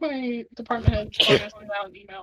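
One sharp sneeze bursts out in the middle of conversation, close and loud, with people talking just before and after it.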